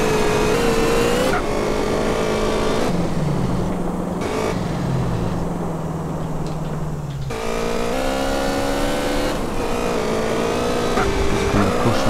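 A car engine in the racing-style driving of GTA San Andreas Multiplayer drones loudly and continuously, its pitch climbing with each gear and dropping at shifts, close and sustained throughout.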